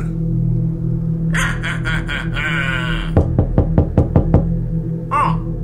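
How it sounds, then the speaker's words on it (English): Knocking on a door, a quick series of about seven sharp raps after a stretch of steady background sound and music, close and fairly loud. "Oh, someone's at the door."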